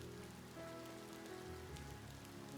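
Steady rain pattering on surfaces in the video game Ova Magica, a soft, even hiss with no breaks and no voices.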